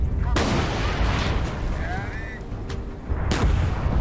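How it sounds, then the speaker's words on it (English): Gunfire in the PC video game Gunner Heat: a few loud, sharp shots ring out over a steady, busy battle background, with one blast early and another near the end. "Oh, we're taking shots here."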